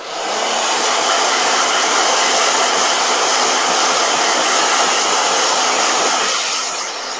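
A blow dryer runs steadily and loudly on its own for about seven seconds, a constant broadband rush with a faint hum that tapers slightly at the end.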